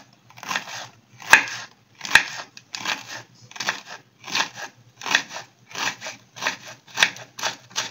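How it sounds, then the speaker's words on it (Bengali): A knife finely chopping capsicum on a board: about a dozen crisp, evenly spaced cuts in a steady rhythm, each a short crunchy chop close to the microphone. "ক্যাপসিকামটা খুব অল্পই দেবো, বেশি দেবো না। এটাও ঝুরি ঝুরি করে কেটে নেব।"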